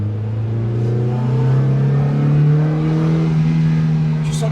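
A Mazda MX-5 NB roadster's engine revs high after a downshift, a loud steady droning note that swells slightly in the middle, heard from inside the low-slung car.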